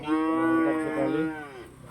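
A seven-month-old calf at the Rogojampi livestock market gives one long, loud, close moo lasting over a second, tapering off at the end.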